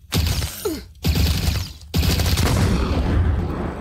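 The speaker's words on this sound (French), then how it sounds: "J'aime vraiment bien le bruit de l'arme améliorée." An upgraded weapon fires in the Roblox Korrupt Zombie game: three loud bursts of rapid gunfire separated by brief silences, the last burst longer and fading out.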